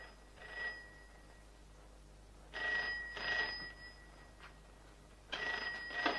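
A telephone rings in three bursts of bright trilling bell tone separated by short pauses, moderately loud in a quiet indoor room with no one speaking.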